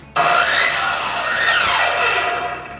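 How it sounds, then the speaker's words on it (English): A saw cuts pieces of wood for the bottom of workshop ceiling rafters in one loud, close, continuous pass lasting nearly three seconds, starting abruptly and fading slightly at the end. "cuts pieces of wood so I can install them at the bottom of the rafters to hold the insulation."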